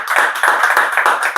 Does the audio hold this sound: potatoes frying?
no